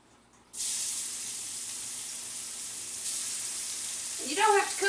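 Shrimp hit hot olive oil in a saute pan and burst into a loud, broad sizzle that holds steady, with a brief voice coming in near the end.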